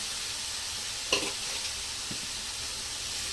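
Finely chopped capsicum stir-fried in a pan for a Marathi simla mirchi bhaji, giving a steady quiet sizzle with one sharp scrape or clatter and a faint later knock.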